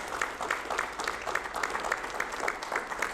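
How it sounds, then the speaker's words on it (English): Audience clapping at a school board association luncheon, a steady moderate patter of many hands filling the whole stretch at middling distance, with no voices over it. "So you can clap, because that's amazing."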